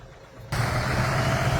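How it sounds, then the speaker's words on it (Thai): A converted truck's engine turns over and settles into a steady idle, a sudden rumbling onset after a quiet moment, close and continuous. "เครื่องยนต์ติดเรียบร้อยนะระบบทำเสร็จเรียบร้อยแล้วกำลังเช็คระบบอยู่นะ"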